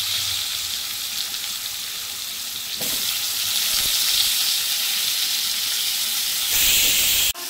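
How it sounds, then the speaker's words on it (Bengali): Pumpkin pieces coated with turmeric and salt frying in hot oil, a continuous close sizzling hiss that swells louder partway through with a brief clatter at the end. "আমি এই তেলে কুমড়োটা ভেজে নেব।"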